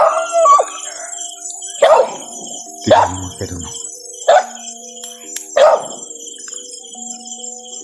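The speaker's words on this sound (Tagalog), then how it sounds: "Yung aso na nawala, dala niya." A dog barks and howls in a series of about five loud, separate bursts spaced a second or so apart, while someone talks quietly in between.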